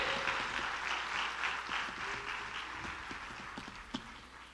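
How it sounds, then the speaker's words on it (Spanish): A church congregation claps together in a rhythmic burst of applause that fades gradually, with a faint voice in the background. "Dale un aplauso al Señor, hermano, hermana"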